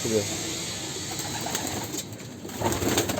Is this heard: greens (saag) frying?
no